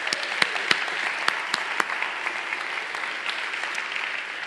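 A conference audience applauds for a speaker, a dense wash of clapping with a few sharp individual claps standing out, steady and fairly close, gradually thinning toward the end.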